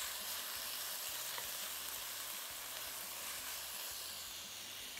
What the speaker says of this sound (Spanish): Este es el momento en que yo ya puedo empezar como a saltear